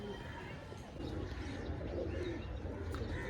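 Pigeons coo softly in a crowded flock of more than a hundred birds kept for sale, a faint, continuous murmur of low calls at a distance.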